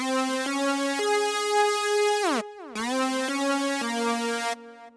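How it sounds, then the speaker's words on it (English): A bright buzzy unison synth lead in FL Studio plays sustained stepped notes with a downward pitch glide in the middle, carrying a subtle Fruity Delay echo, alone without voices. "So first I'm going to add a fruity delay too."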